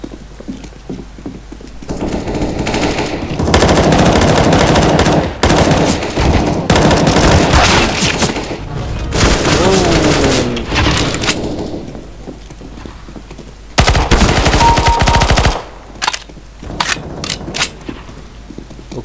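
Counter-Strike deathmatch gunfire, loud and close, with long sustained bursts of automatic fire, brief pauses and a few separate shots, and no voices.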